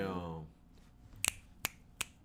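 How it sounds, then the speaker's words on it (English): Three sharp finger snaps, close and distinct, with one doubled at first and then two single snaps at steady intervals, after a brief voice trails off. "Snap your fingers."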